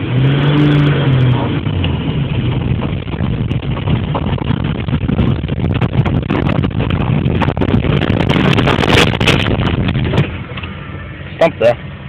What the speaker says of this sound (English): all you have to do is release the clutch and give it some gas